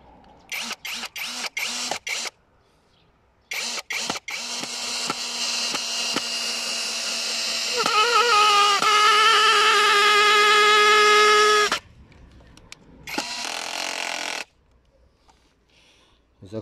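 A cordless 18V drill on second speed drives a 130 mm screw, whining in several short bursts, then running longer as its pitch climbs and strains, stopping abruptly before one final brief burst.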